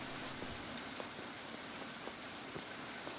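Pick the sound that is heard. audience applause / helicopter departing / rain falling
rain falling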